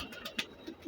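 A domestic pigeon of a blue-eyed breed coos softly in short, low murmurs over less than a second, close by and faint.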